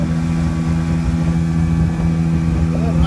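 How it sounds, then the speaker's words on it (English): A Maxum 1700 boat's premix outboard motor idling, a continuous low droning hum with steady harmonic tones, close and loud, no talking. "It's quiet, nice quiet motor. It is premix, 50-1."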